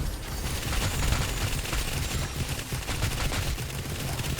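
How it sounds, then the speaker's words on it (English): Rapid, continuous crackling bursts from a lightning beam skill in a video game, dense overlapping explosions rattling steadily at a loud, even level throughout with no pauses. "the explosions are a very good boon here"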